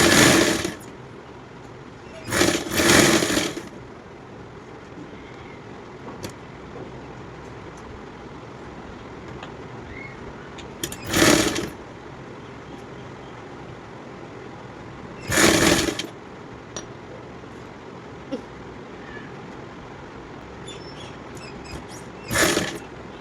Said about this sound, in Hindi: अब यहाँ से सिलाई लगाते हैं।